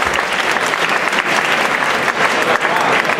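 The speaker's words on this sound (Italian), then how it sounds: "Un applauso a Blues Made in Italy e a tutto lo staff" A festival crowd at an Italian blues event claps in loud, dense, sustained applause that continues evenly throughout, with no pause.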